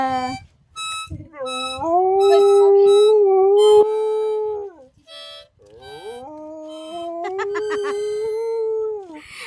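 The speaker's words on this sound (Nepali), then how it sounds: "रुवा न, कुकुर रुन्छ अरे नि त।" A dog howls loudly and up close in long, wavering cries, broken by short yips and whimpers between the howls.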